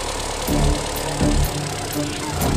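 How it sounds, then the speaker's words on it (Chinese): Volkswagen Jetta with an EA211 engine idling just after starting, with a leaking water pump; a steady near engine drone with low thumps repeating roughly every three-quarters of a second. "已经着车了啊"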